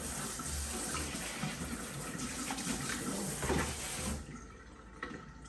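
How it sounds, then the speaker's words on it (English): Tap water pouring into a sink as a plant pot is rinsed off, a steady close splashing rush that drops away abruptly near the end, leaving faint trickling. "Let me rinse this pot off a bit too"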